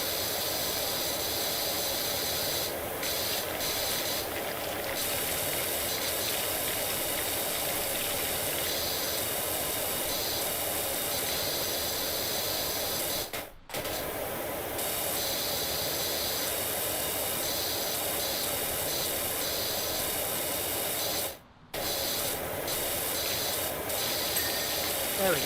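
Steady broad spray hiss from a virtual pressure washer in Powerwash Simulator runs almost unbroken, loud and close, cutting out abruptly twice before resuming.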